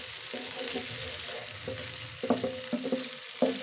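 Capsicum pieces frying in a pan on the stove while being stirred, a steady sizzle broken by a few sharp scraping strokes of the spoon toward the end, close and fairly quiet, no voices.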